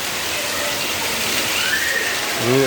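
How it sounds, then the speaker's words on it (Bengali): Heavy rain pours onto a small swollen pond beside a school during the monsoon, a steady dense hiss throughout, with a brief tonal sweep near the end. "আর এখন বৃষ্টি হচ্ছে,"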